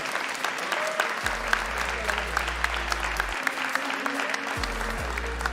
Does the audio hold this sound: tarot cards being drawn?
no